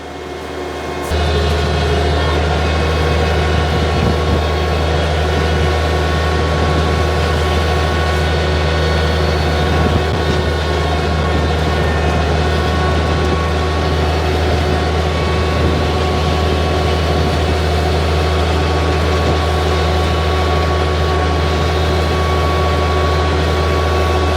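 A tractor fitted with a brush-cutter arm drones steadily and loudly from start to finish, a constant low mechanical rumble with no pauses.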